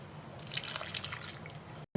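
Water drains from hot grated raw potato through a cloth laid in a strainer, producing a faint, close trickle and patter of drips that stops abruptly at the end.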